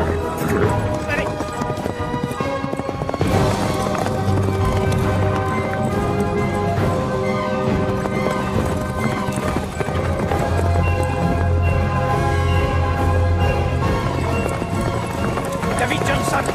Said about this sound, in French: David Johnson, arrêtez votre cheval!